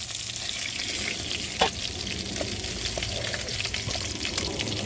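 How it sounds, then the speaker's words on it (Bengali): Fish frying in oil in a pan over a wood fire, giving a steady close sizzle and crackle with a sharp clatter partway through and faint stirring noises. "মাছটাকে ভালো করে ভেজে দেখো বন্ধুরা মাছগুলো ভাজা হয়ে গেছে"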